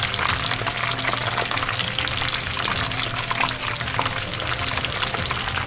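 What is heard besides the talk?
egg rolls frying in hot oil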